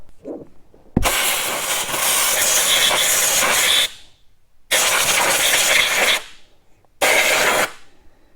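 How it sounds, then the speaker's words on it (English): A compressed air hose blasts dust out of a Yamaha Grizzly / Kodiak 708 ATV engine: three loud, close, broadband hissing bursts, the first long, the second shorter, and a brief final blast, with quiet pauses between. "Let me get the air hose and we'll blow this out"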